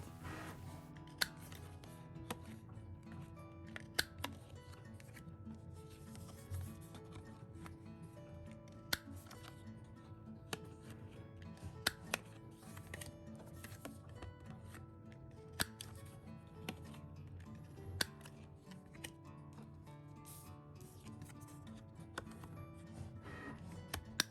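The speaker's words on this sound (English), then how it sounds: "I also have some stickers printing and cutting in the back" A sticker printer prints and cuts stickers in the background of a small craft studio, giving a steady low mechanical whir with frequent sharp ticks and clicks scattered throughout, fairly quiet and with no talking.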